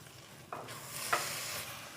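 Carrot halwa is stirred in a pan, producing a couple of soft scraping swishes over a faint, steady sizzle, close and quiet, with no talking.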